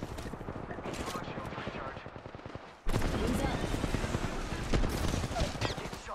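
Rapid automatic gunfire in the video game Apex Legends, dense bursts of rattling shots that grow louder and busier midway, continuous and close, with faint talk in the background.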